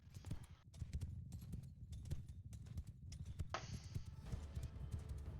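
Mounted horse archers gallop in Mount & Blade II: Bannerlord, a dense, continuous drumming of hoofbeats layered over game battle noise, with sharp clacks scattered throughout.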